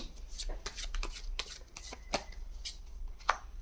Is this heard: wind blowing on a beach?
no